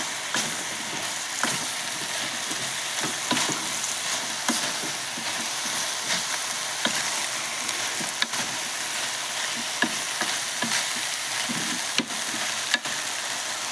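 Meat browning in a pan for a Japanese curry sizzles loudly and steadily, with crackling pops and scraping stirs throughout.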